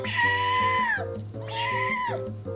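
A person imitates a cat's meow to get a kitten's attention, two drawn-out nasal meow calls in a row, close and fairly loud, over a low steady hum.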